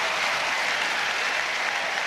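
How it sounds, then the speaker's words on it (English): Rugby crowd at an Ireland v Namibia match cheering and applauding a Namibian score at half-time, a dense, steady roar of clapping and shouts filling the stadium without a break. "Big cheers from the crowd"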